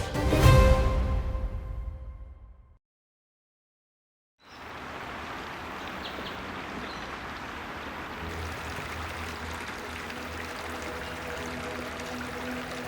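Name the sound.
calm city creek water with small splashes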